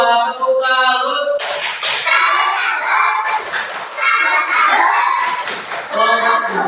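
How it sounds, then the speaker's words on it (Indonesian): A class of children does a rhythmic 'tepuk salut' group clap, chanting and shouting together loudly in a lively, close, noisy classroom. "Oke, kita kasih tepuk salut buat kelompok dua."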